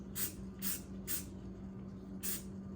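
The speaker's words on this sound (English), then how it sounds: "light sprays are better, so you can eliminate getting runs on there." Short bursts of spray paint hiss onto a Chevrolet Silverado's chrome exhaust tips, four light separate sprays at an even rhythm over a low hum, close and fairly quiet.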